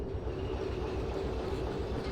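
A train runs along the rails in the railway simulator game Derail Valley, a steady low rumble with a faint tonal hum and soft clickety-clack, continuous and moderately quiet with no talk.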